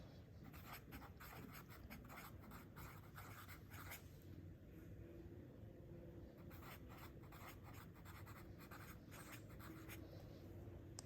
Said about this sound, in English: I'm going to write down what I need to get at Costco